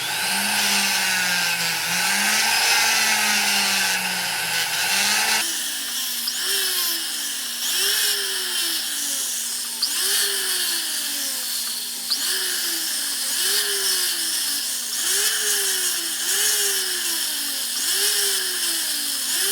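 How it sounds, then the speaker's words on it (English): A rotary tool fitted with a fine-grit sandpaper barrel whines steadily while sanding a metal ring bezel, its high pitch dipping in repeated regular waves as it passes around the edge, close and loud, no voices. "I'm switching to a finer grit sandpaper barrel"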